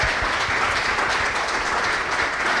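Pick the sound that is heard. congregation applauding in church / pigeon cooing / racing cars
congregation applauding in church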